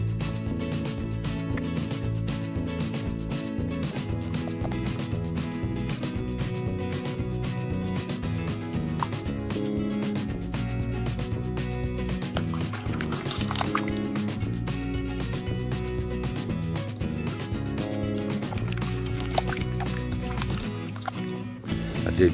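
Gravel and black sand are panned for gold in creek water in Indiana, with continuous sloshing, swirling and gurgling water and gritty rattles up close, steady over a long stretch.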